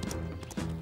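A horse's hooves clip-clop briefly in a quick, close burst over a tonal music bed, in a storm-swept wild-horse setting.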